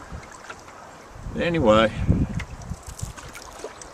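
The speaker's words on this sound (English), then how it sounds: "just kind of paddling along." Small boat paddled on a windy, cool bay, soft water swishes and low wind noise under someone talking briefly, quiet and steady.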